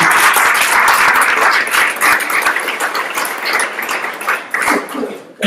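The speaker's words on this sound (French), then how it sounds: "Et on peut les applaudir." Applause fills a conference hall after a talk on mobile advertising fraud, dense steady clapping from a crowd that thins briefly near the end.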